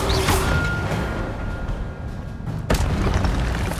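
A fire spell cast in the video game Hogwarts Legacy, loud and dense with rumbling whoosh throughout, a bright burst near the start and a sharp crack about two-thirds through.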